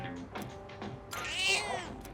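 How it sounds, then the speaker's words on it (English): A cat in the video game Persona 3 Reload meows twice, the second call longer and rising, close and clear over a faint game background. "do we have to feed this cat 3 times like before?"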